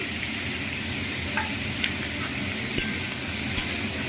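A pumpkin vegetable dish with salt and sugar sizzles in a pan as it is stirred, a dense even hiss broken by a few soft scrapes and taps of the spoon, close and moderately loud, no voices.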